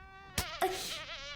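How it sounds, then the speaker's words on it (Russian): A housefly buzzes close by with a thin, wavering whine, cut by a couple of short sharp knocks, and no one talks. "Стой! Здесь муха."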